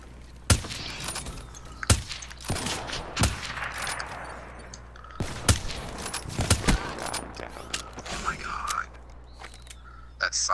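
No-scope sniper rifle shots ring out in a video game as sharp isolated cracks, spaced a second or two apart, between bursts of excited talk.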